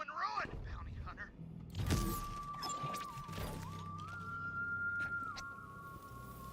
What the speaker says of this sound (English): She's whistling, must be around here somewhere.